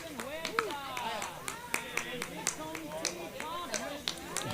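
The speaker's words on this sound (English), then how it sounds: "All right, the crowd's getting excited." Scattered crowd clapping at a pickleball league match, sharp claps popping out irregularly beneath continuous commentator talk.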